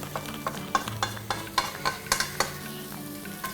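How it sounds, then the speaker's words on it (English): Thick sauce simmering on low heat in a wide wok, a soft bubbling sizzle broken by a regular series of stirring scrapes about every third of a second, close and fairly quiet, no voices. "You cook this on low heat for about 2 minutes."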